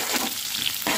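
Chicken stirred into onion gravy in a pan, a short, loud, close hiss of sizzling oil with a quick scraping stir.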